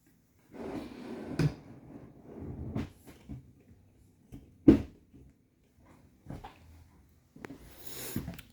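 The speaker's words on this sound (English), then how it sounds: "There is also a small drawer at the very end. Pulls out." A small drawer at the end of the kitchen island in a 2022 Jayco Pinnacle travel trailer slides out, giving soft rolling and knocking sounds with a few sharp clunks spread across the stretch, close by in a quiet interior.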